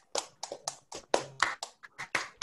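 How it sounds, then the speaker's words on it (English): Sparse, distinct claps from a small group at an online closing ceremony, around a dozen separate hand strikes in an uneven rhythm, close and fairly quiet with silence between them. "A huge round of applause."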